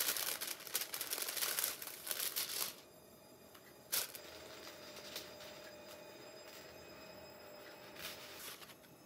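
Packaging crinkles and rustles up close in a dense burst for the first few seconds, then quieter scattered crackles and one sharp crunch follow, with no speech.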